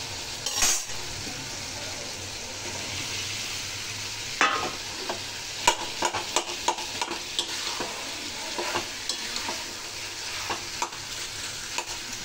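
Boiled potatoes are stirred into a sizzling tomato masala in a pan, with a steady frying hiss under scattered scrapes and knocks of a spoon against the metal.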